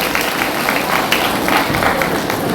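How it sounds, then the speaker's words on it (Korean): An indoor crowd at a civic training gathering in a church applauds steadily, a dense wash of clapping that holds at an even level throughout. "우리 한번 박수 한번 쳐드립시다."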